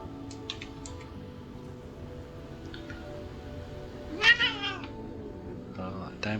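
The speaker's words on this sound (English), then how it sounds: "Oh, that damn cat again, I don't know if you heard that." A heavily pregnant cat meows nearby, with a few faint chirps early on and then a clear, louder meow followed by a softer second one, all over a quiet background of low game music.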